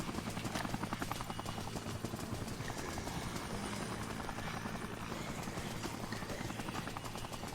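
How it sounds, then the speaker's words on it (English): A helicopter in the video game Dead Rising gives a continuous rapid rotor chop and engine drone at a steady, moderate level, with no talk. "Oh, that's right, they have a helicopter."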